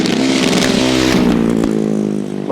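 A 600cc single-cylinder Godden grasstrack racing motorcycle engine running roughly, fluttering with pops and bangs as it seems to run short of fuel, loud and close for a couple of seconds.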